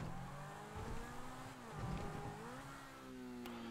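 A car in GTA V accelerating at full throttle toward a ramp, its engine note rising and holding in a steady, loud drone with shifting pitch and no speech over it.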